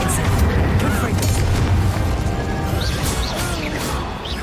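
Confringo spell blasts in the fantasy game Hogwarts Legacy, booming crashes and bursts layered over combat noise, loud and dense at first and easing slightly later, with brief spoken voices mixed in.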